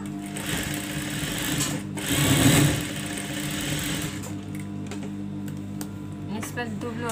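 A sewing machine stitches the lining of an abaya with a steady, close whir that runs throughout and swells briefly near the middle, under a faint voice.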